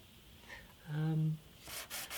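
Short rubbing strokes of sandpaper on the wooden bridge of an antique parlour guitar, close and quiet, with brief scratchy passes near the end.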